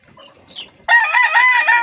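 A green-legged gold rooster crows once, loud and near, after a moment of faint background clucking and rustle.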